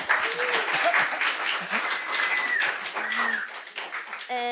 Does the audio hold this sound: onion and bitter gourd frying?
no